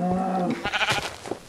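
A sheep bleats in the video game Minecraft, one quavering call up close, followed by a few brief clicks and scrapes of game sounds.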